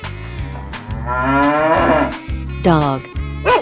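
A cow in a 3D animal slide video game gives a long, loud moo followed by a shorter second one, set over a rhythmic game music beat.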